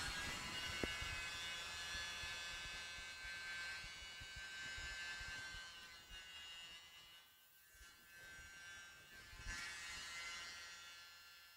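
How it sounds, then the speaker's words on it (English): A mini air blower hums and whines steadily at close range, its high buzzing tone dipping briefly near the end before picking up again, heard alone during an art painting session. "with the mini blower, what I'm doing is I'm holding my thumb over the intake, aiming, and then letting go of my thumb slowly"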